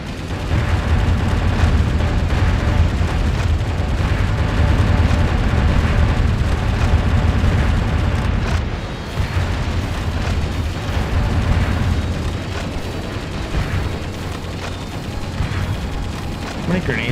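Repeated heavy grenade blasts roar through a chaotic mech battle in Metal Wolf Chaos XD, with deep rumbling booms and gunfire layered almost without pause and a brief dip midway, while someone talks over the din.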